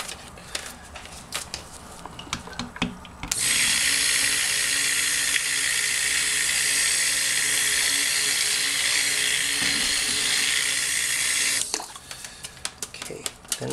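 A stick blender mixes cold process soap batter made with cocoa butter, a loud, high whine running for about eight seconds and then stopping, with quieter handling noises and brief speech before and after.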